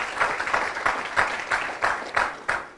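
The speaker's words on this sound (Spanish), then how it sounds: "Dele ese fuerte aplauso Give al Señor. Give that strong applause to the Lord." A church congregation applauds during a Spanish-English sermon, with rhythmic, loud clapping in regular pulses that fills the room without voices.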